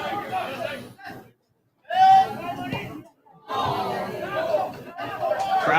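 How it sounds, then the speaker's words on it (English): Soccer crowd at a semifinal match oohs and aahs in loud swelling bursts, with a brief silent gap between surges, and commentary talk runs through it. "Crowd oohs and ahs, but that was a completely legal play."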